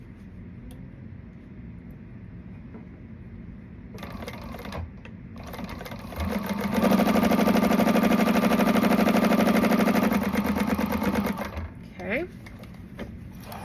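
A sewing machine bastes a pocket onto a garment, a short steady whirring run of stitching that starts after some quiet handling noise, with a brief spoken word early on.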